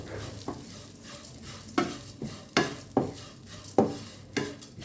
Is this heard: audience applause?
no